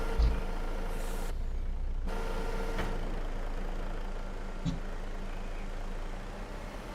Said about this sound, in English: Fold this up, we'll drive the truck forward.